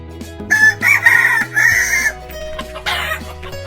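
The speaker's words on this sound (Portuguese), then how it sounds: "Galo." A rooster crows nearby, loud and alone, with a drawn-out multi-part cock-a-doodle-doo followed by a shorter second call.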